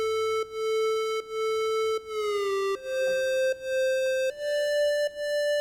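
Mellow synth lead from a beginner producer's song, a pure, smooth tone playing a simple stepwise melody of held notes with brief gaps and one gliding pitch bend, heard alone and fairly close.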